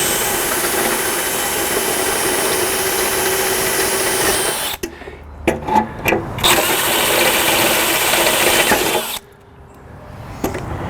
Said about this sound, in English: so we're gonna drill them out to 5/16.